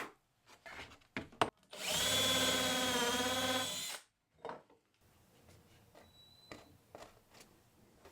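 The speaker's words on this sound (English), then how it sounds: "I just need to drill a 6mm hole halfway through the centre of the tops" A power drill boring a 6mm hole halfway into a pallet-wood tabletop, a loud two-second whine under load, with handling knocks and clatter before and after.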